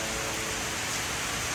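Heavy rain shower pouring in Arlington, Texas, a dense, even roar of rainfall filling the whole moment with no pauses, close and loud.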